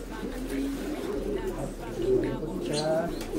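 Pigeons, including a hen, coo in low, rolling murmurs close by while someone talks steadily over them throughout.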